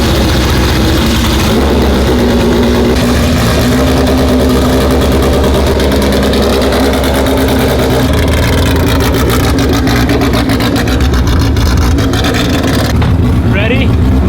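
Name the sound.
tuned Honda Civic Si engine revving while driving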